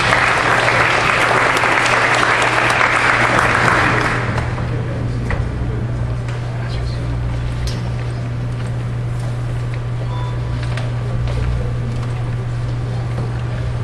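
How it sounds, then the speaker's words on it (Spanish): An audience claps loudly to welcome a speaker at a conference talk, dense applause for about four seconds before dropping off, leaving room tone with a steady low hum and a few scattered late claps. "Recibámoslo con un aplauso"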